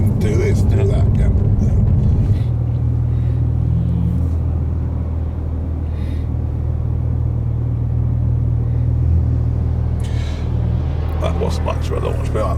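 A Porsche 992 Carrera 4S on track gives a loud, steady low engine rumble that settles into a constant drone, with people talking over it.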